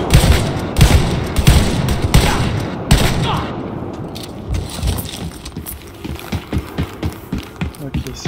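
Shotgun blasts and other gunfire boom repeatedly in the shooter game Wolfenstein Youngblood, with dense overlapping shots early, then a steady run of evenly spaced bursts as the fire thins out, with a voice speaking over the fighting.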